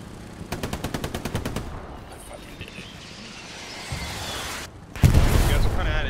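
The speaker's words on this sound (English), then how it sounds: "these artilleries are almost hitting me directly" A war video game battle. A rapid burst of automatic gunfire opens, then a low rumbling stretch, then a loud close artillery blast and its roar. A voice talks faintly in the background.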